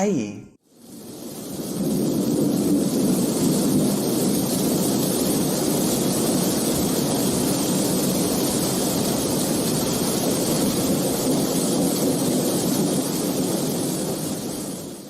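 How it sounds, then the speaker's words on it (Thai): Steady heavy rain pours down, a dense constant hiss that fills the space and holds evenly, with no voices. "เสียงที่เราได้ยินเมื่อกี้ก็คือเสียงของ เสียงฝนตกนั่นเอง"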